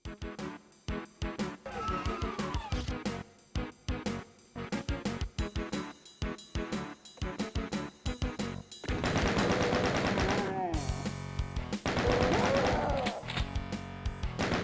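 Chain gun in the video game Doom firing in long rapid bursts, a dense stuttering stream of shots that grows louder and fuller toward the end, with brief gaps between volleys.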